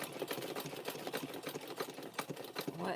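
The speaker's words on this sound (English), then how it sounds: "What is crunching?" A sewing machine stitching a rope handbag wrapped in fabric strips, running with a dense, rapid clatter that carries an irregular crunching grind underneath, close and steady throughout with no talk.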